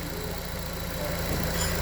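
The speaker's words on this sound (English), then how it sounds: "with the motor running" A 2017 Ford Escape's engine idling smoothly, a steady low hum with a faint even texture, close and moderately quiet, without voices.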